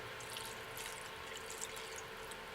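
Milk is poured into blueberry muffin batter as a soft, steady liquid trickle that runs unbroken for a few seconds, quiet and close, with no talking.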